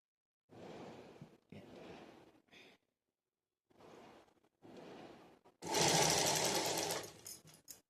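A sewing machine stitches a blouse back neck in short close bursts of whirring, separated by brief silences, ending in a longer, louder run of rapid stitching.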